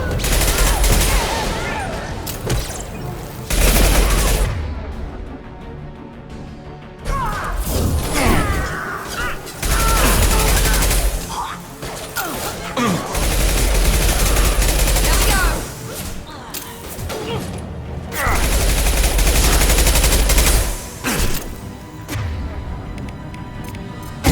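Heavy sustained gunfire from a Mass Effect 2 firefight, loud fusillades in long bursts separated by brief lulls, with a voice speaking now and then amid the shooting.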